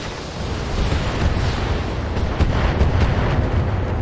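A mech explodes in the Battletech video game: a sustained, rumbling blast with crackling debris, loud and close, with no talk over it.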